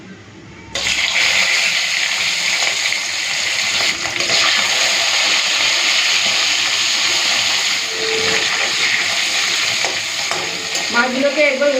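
Mustard paste mixed with water poured over fish in hot oil, setting off a loud, steady sizzle with a sudden onset that holds throughout, accompanied by faint stirring clinks near the end.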